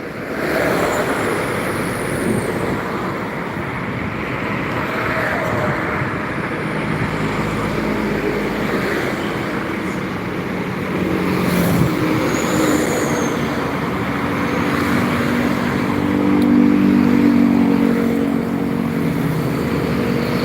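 Buses and trucks pass along a road around Palembang, a continuous low traffic rumble with engines swelling and fading and a brief hiss that suggests air brakes.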